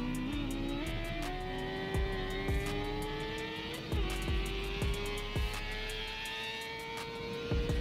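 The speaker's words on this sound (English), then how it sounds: "Supercharger Accord versus R6" Supercharged Honda Accord and Yamaha R6 motorcycle in a roll race, engines droning steadily with a rising pitch as they accelerate, overlaid with repeated sharp clicks and thumps and a few louder bursts.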